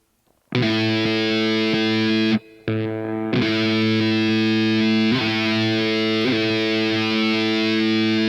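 Distorted electric guitar played through the drive effect of a Roland VG-99 modeling processor, loud sustained chords ringing with a harmonically dense, gritty tone, broken by a brief dropout and a few re-struck chords.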